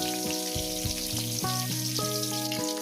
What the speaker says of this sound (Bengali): বেগুনগুলোকে সুন্দর করে বেশি কড়া করে লাল করবেন না হালকা করে লাল করে ভেজে তুলে দেবেন